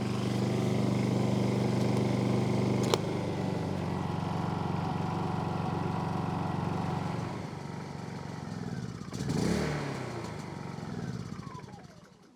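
A Honda portable generator engine drones steadily at a close, even pitch, then winds down and fades out near the end after a brief clunk.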